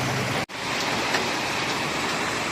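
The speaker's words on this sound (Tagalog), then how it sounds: "Mahina lang yung ulan pero grabe yung baha." Steady light rain patters continuously over a flooded street, a dense even wash broken only by a brief dropout near the start, with no talking.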